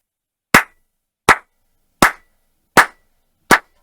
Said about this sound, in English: the one thing they do say about guys with big hands is they clap loudly